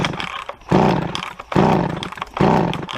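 An old Mac chainsaw engine fires up and roars in three loud, sustained bursts, each revving hard and then easing off for a moment before starting again, with no one talking.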